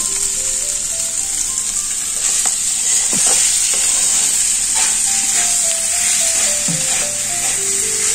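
Chicken pieces frying and being stirred in a pan for chicken rolls, a steady loud sizzle with scraping stir strokes throughout, no voices.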